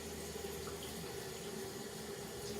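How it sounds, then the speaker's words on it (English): Water runs steadily from a sink faucet while a transfer is rinsed under it, making a continuous soft splashing hiss at low volume with no voices. "I'm gonna real quick rinse this transfer off over here in the sink and just rinse it off"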